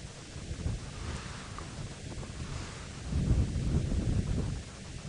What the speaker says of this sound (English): It's also quite windy today